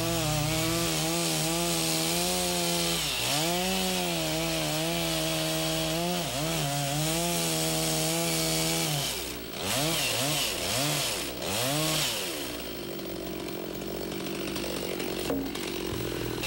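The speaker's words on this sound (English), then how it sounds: "watch the tip of the saw as you plunge cut through" A chainsaw plunge-cuts into a log to open a cabin window, its engine droning steadily under load, then dipping and surging in pitch several times as the cut finishes and the saw winds down.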